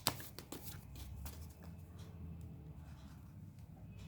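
Tarot cards are handled and shuffled close to the mic, soft riffling and papery flicks, fairly quiet and alone.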